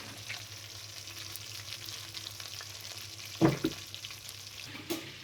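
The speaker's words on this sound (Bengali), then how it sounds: "এদিকে চলছে মাছ ভাজা।" Fish fries in a pan as a quiet, steady sizzle, with a couple of louder bursts of crackling and a knock partway through, heard close with no talk.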